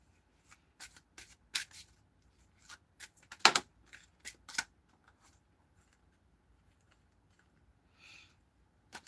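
Soft riffling and snapping of tarot cards being shuffled in short bursts, quiet and close, with pauses in between and a light rustle near the end.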